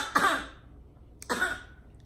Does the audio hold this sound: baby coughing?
yes